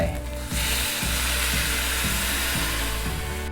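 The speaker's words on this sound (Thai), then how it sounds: "เราใส่น้ำสต๊อกได้เลย เทน้ำสต๊อกลงไป" Chicken stock hits a hot pan and erupts into a loud, steady, crackling sizzle that fills the whole stretch without letup.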